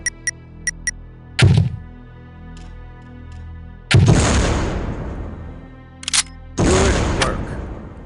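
An OICW grenade launcher in Soldier of Fortune II fires with a thump; heavy booming blasts follow with long rumbling decays, mixed with a few faint electronic beeps, all close and loud.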